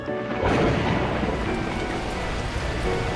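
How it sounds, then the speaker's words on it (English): Torrential rain and rolling thunder in the video game Beacon Pines, a dense, loud, steady roar of downpour that swells after a brief quieter opening and holds without any talk. "At that moment, the heavens opened up, unleashing torrential rain."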